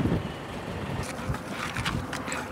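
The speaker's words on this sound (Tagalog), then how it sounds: "Grabing lakas ng hangin." Strong wind buffets the microphone in a continuous roaring rush, with gusty bursts of broadband noise throughout.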